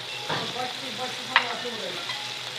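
Macaroni ingredients with tomato, salt and black pepper frying in a pan while being stirred, a soft continuous sizzle with scraping strokes and one sharp clink of the utensil against the pan.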